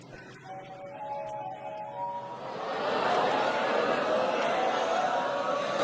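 A mobile phone ringtone plays a short melodic tune in a stand-up comedy audience for about two seconds, then the crowd's laughter and chatter swell and fill the room.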